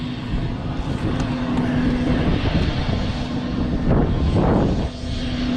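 Light aircraft engine running steadily on the ground at Asheville before departure, a loud continuous drone with a steady hum and a brief swelling roar near the end, no talking.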